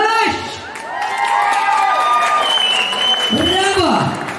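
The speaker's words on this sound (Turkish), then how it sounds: "Aziz mihmanlar yine bir gezek bir katta alkış." Guests at a Turkmen wedding celebration clap and cheer in a loud burst, with music or tonal voices and an announcer-like voice over the crowd.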